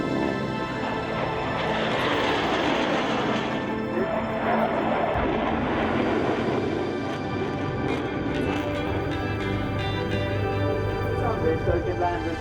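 A propeller aeroplane flies at the Shoreham Battle of Britain airshow, its droning engine heard at moderate distance with a shifting, washing tone and crowd ambience, steady throughout.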